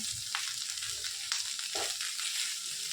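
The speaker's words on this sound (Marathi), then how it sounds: "असंच हलवून आपण ह्याला चांगलं भाजून घेऊया" Okra being stirred and dry-roasted in an open pan for masala bhendi, giving a soft continuous sizzle with intermittent scraping and rustling stir strokes.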